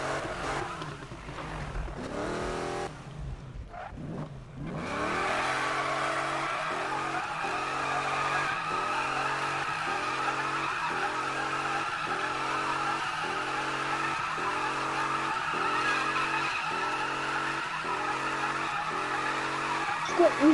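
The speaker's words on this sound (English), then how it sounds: "now you're drifting again" Car drifting in the Need for Speed video game: a steady engine roar under long, continuous tire squeal and skidding, loud and sustained with rhythmic pulsing throughout.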